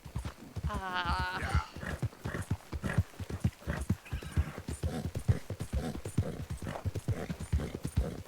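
Horse hooves in Red Dead Redemption 2 clip-clop in a steady, close, rhythmic gait, with a brief neigh early on and someone talking over the hoofbeats.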